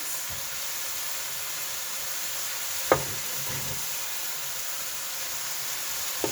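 Onions added to Korean bulgogi in a hot pan, a constant broad sizzle and hiss with one sharp clatter about halfway through and a faint tap at the end.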